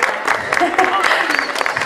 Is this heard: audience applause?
yes